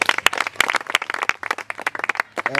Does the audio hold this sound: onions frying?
no